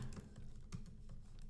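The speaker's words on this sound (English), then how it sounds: "let's see like if you can actually hear the typing sound" Light, steady typing on a MacBook Pro's built-in laptop keyboard, picked up faintly by a Shure MV7 microphone as a quick, irregular patter of soft key clicks with no voices.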